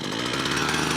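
A petrol hedge cutter, just winterized, runs after a choke-assisted second pull: a loud, steady buzzing two-stroke engine drone close by, with a faint voice underneath.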